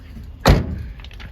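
Door of a 1986 Isuzu truck, a 5-speed pickup in a junkyard during a tropical storm, shutting with one solid, close thud, followed by faint rattling and ambient noise.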